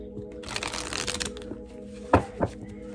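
Tarot cards being shuffled by hand, a close, papery riffling burst followed by a couple of sharp taps as the deck is squared, quiet background hum underneath.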